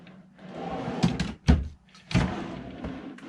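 Several wooden drawer thuds below the sink in a 2005 Country Coach Magna 40-foot motorhome, three distinct knocks about a second apart, close by, with a low rumble and faint background noise between them.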